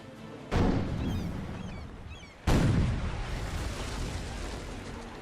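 Two heavy ship cannon blasts boom out in the naval combat game Captain Blood, each a sudden loud report with a long rumbling decay, about two seconds apart, with no talk.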